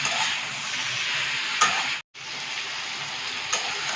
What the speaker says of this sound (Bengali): এবার সবজির সাথে কষিয়ে নিয়ে এর সাথে ভালোভাবে মিশিয়ে নিতে হবে, একটু কষাতে হবে